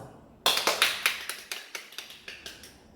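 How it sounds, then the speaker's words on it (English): A small classroom group gives a round of applause for a pupil's solid-shapes demonstration, a short burst of a dozen or so separate claps that starts suddenly and fades, close and fairly quiet. "Give group 1 a round of applause."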